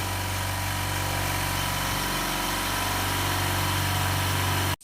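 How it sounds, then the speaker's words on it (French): A 2018 Peugeot 3008's engine runs steadily after an oil leak and exhaust repair, a loud, even idling hum with vibration close by, cutting off abruptly at the end. "on va faire tourner le véhicule avant de remonter rouge juste pour vérifier"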